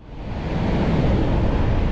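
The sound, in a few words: ocean waves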